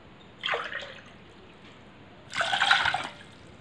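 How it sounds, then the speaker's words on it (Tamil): Water is poured into a pot twice in short splashing bursts, the second longer, with quiet pauses between, while making ginger kashayam. "இப்போது இதில் நம்ம வந்து 2 டம்ளர் தண்ணி ஊற்றிக்கலாம்."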